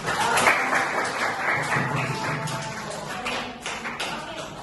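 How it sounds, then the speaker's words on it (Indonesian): Applause from students in a classroom during a guidance lesson, a burst of scattered hand claps and taps that starts strong and slowly thins out, with room noise underneath. "Tepuk tangan dulu untuk kita hari."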